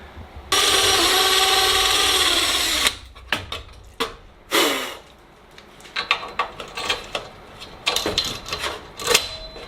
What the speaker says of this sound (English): I'm going to go ahead and drill one hole into this other block